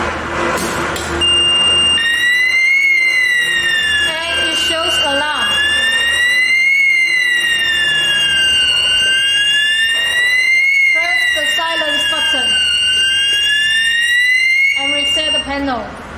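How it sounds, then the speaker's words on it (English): A wireless conventional fire alarm system sounding during a test, a loud close electronic siren sweeping up and down in a repeating wail, with a steady tone layered in and brief voices beneath it. "Now, let's test the wireless fire alarm system."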